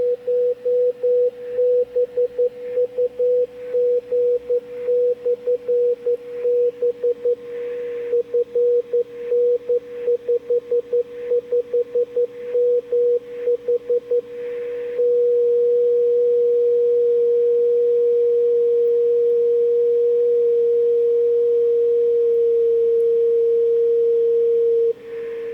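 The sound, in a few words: radio beacon signal received via transverter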